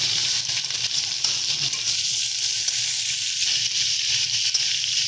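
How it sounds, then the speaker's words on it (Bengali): Mixed vegetables including eggplant fry steadily in a pan for a chorchori with drumstick stalks, giving a continuous close, even sizzle with no talk. "এবারে সমস্ত সবজিগুলোকে কিন্তু আমরা সুন্দর করে ভেজে নেব"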